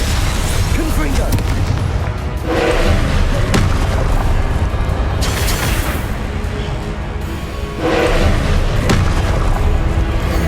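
Heavy booming explosions from the Confringo blasting curse in Hogwarts Legacy during a combat trial, loud continuous blasts layered over battle noise and game music.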